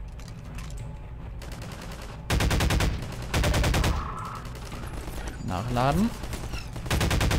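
Rapid automatic gunfire from a weapon in the video game Half-Life 2, loud, close bursts separated by brief pauses, with mechanical clicks and someone talking in between.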